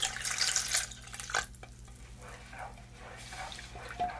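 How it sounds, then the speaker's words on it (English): Cold water is poured into a kitchen mixture in a 1960s Tupperware party demonstration, giving a bright rushing splash that settles into softer trickling and stirring sounds, close and alone. "So now I'm going to go ahead and pour my cold water."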